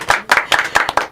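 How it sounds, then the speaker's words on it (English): A small studio audience on a live music broadcast claps in a few sparse bursts, about five separate rounds of hand claps, close and fairly loud with short gaps between them. "You all can clap for that."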